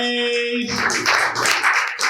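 Audience clapping at a youth poetry slam, a burst of applause that starts abruptly after a held tone and carries on loud and steady, filling the room alone.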